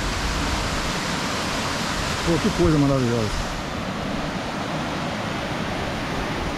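Flowing water at Serra do Tepequém in the Amazon, a steady broadband rush of cascading water throughout, with someone briefly speaking over it midway.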